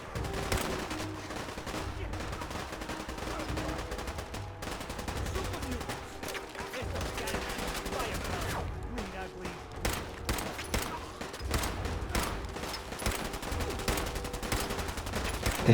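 Repeated gunfire from a gun in Fallout 4, rapid cracking shots in bursts that come close together and sometimes pause, fairly dense throughout, with someone talking over some of it.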